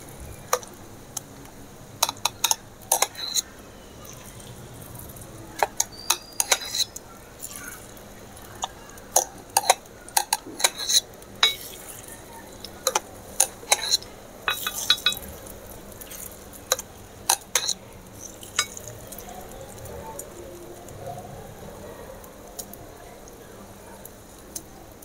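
Egg kuzhi paniyaram being turned in its pan while it cooks makes scattered light ticks and taps of a utensil against the metal, with irregular spacing over a faint steady kitchen hum.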